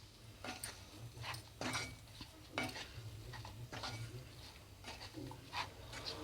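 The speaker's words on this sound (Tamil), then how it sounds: "இப்போ இது எல்லாத்தையும் ஒன்றா நல்லா கலந்துக்கலாம்" A poha laddu mixture with roasted cashews and raisins is stirred in a pan: faint, irregular scraping and swishing strokes, roughly one every second, with a soft background hiss.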